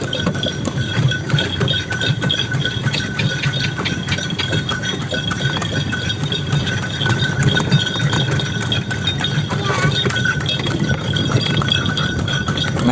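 Horse hooves clip-clop steadily while the animal pulls an andong cart, a continuous rhythmic clatter with light clinking over dense street noise, no clear talk.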